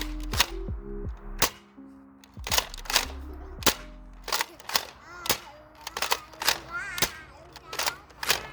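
DartZone Nexus Pro blaster firing Nerf Elite 2.0 darts indoors, a run of sharp, close snapping shots with short gaps between them, about a dozen in all, several followed by faint thuds.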